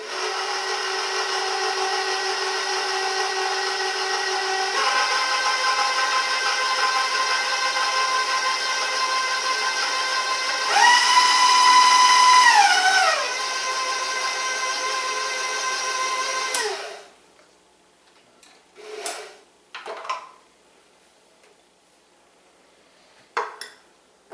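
A kitchen blender motor drones steadily with a whining hum that jumps in pitch partway through, then shuts off, leaving a few light clatters and knocks.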